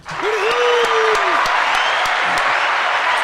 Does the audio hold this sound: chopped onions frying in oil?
no